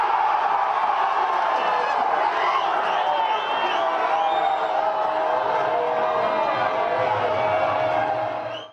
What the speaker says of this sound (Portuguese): No primeiro tempo, a torcida vibrou com o gol de Felipe Coutinho.